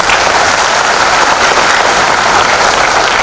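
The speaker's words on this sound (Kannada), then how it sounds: "ಒಂದ್ಸಲ ಜೋರಾಗಿ ಚಪ್ಪಾಳೆ ಹೊಡಿಲೇಬೇಕು" A large audience of Ayyappa devotees at a big convention claps loudly and steadily, a dense, continuous wash of applause with no talk over it.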